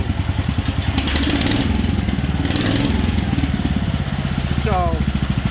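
A Wheel Horse 857 garden tractor with a carburetor in need of work runs loud and close, its single-cylinder engine chugging rhythmically and revving up. A short whistle-like chirp cuts in near the end.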